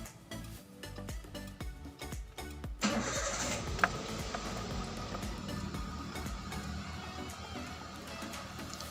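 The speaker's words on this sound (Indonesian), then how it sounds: "jangan lupa kita hidupkan kembali untuk kendaraan" A car engine cranks over with a rapid starter clatter and catches after about three seconds, then settles into a steady idle hum that continues to the end, heard fairly close in a workshop.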